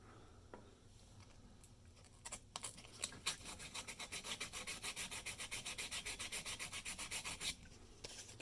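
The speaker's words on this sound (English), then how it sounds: "And for underneath, I use a really fine grit sandpaper." Fine-grit sandpaper rubs against the underside of a Lionel postwar 1033 transformer, starting with a few scattered scrapes, then settling into a steady run of quick, even back-and-forth strokes, close and fairly quiet.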